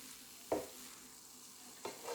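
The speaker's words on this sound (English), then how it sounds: "Leaving it to simmer for 3 minutes, so I turn it occasionally and make sure it's on a low" Cauliflower fried rice simmers over low heat in a pan, a faint soft sizzle under two quick scraping turns of a utensil, with no talk.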